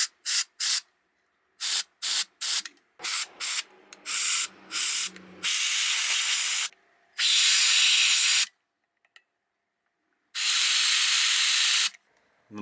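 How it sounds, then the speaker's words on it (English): Compressed air duster cleaner blowing dust out of a spot in an RV, a series of short sharp hissing spurts followed by several longer sustained blasts, close and loud with silent gaps between. "blowing some of this dusting cleaner air into the area here"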